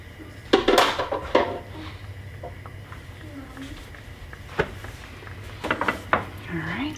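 A spoon stirs beef and noodles in a pot, with loud clanks and scrapes against the metal in short bursts, quieter rubbing in between, and a voice speaking briefly.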